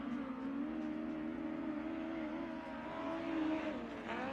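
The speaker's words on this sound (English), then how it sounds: "Here comes Jeff Schindler, number 8 X car." Midget race car lapping Tri-State Speedway in Indiana, a sustained engine drone held steady at one pitch for several seconds, with a slight rise and fall as the car runs around the track, fairly close and alone.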